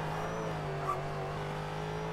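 Ford GT V8 engine in the iRacing simulator at Interlagos, a steady loud drone held at constant revs throughout, with no talk.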